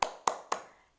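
Three sharp hand claps at a steady pace, close and fairly loud, each ringing briefly before the next, as part of a children's preschool clapping chant.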